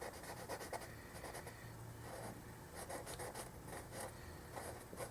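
A pen scratches and scribbles across paper as a wiring diagram for a homemade welder is drawn, with faint, close, irregular strokes and short pauses, no voices.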